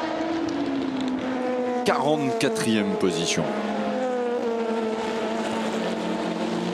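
Race cars at the 24 Hours of Le Mans, including a Red Driver Sport team car, roar past in a quick burst of sweeping engine pitch-drops amid steady track noise, with a commentator talking over them.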